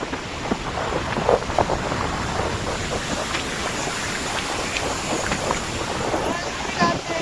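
Strong wind buffets the microphone over the rushing wash of sea waves at Arnala Beach, steady and loud throughout.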